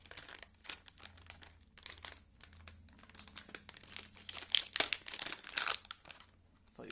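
Plastic packaging for an Airtech Studios charging handle lock for a Scorpion Evo is crinkled and pulled open by hand, with close, irregular rustling and crackling bursts that swell toward the end.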